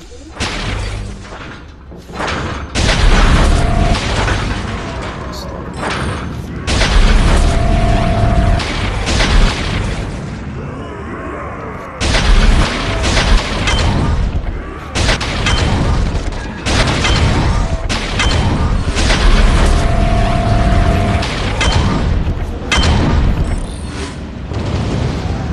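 Carpet bomb explosions in the Warhammer 40k Freeblade video game, a long run of loud, dense, rumbling booms with crashing debris, broken by one brief quieter gap.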